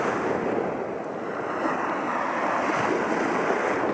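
Lake Michigan waves wash up on the shore at Nordhouse Dunes, a steady rushing surf close by with wind noise buffeting the microphone and no talking.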